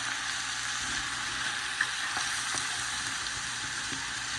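Half a stick of butter sizzles and spits in a pot of jambalaya, a steady broadband hiss of frying with a few small pops, close and continuous with no voices.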